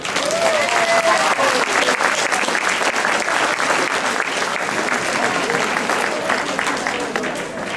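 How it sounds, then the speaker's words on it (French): Sustained applause from an audience, dense clapping that holds steady and tapers slightly at the end. "On peut l'applaudir."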